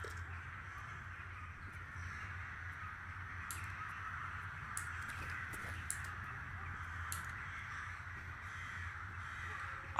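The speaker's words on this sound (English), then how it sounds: "I can hear those birds again." Faint crows caw now and then over a steady low hum in the creepy basement of the video game Escape From Pripyat, distant and sparse.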